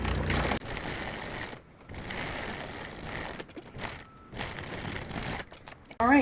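A sewing machine stitches a pants seam twice, its rapid mechanical whir running in bursts separated by short pauses, close and fairly quiet, with no voices.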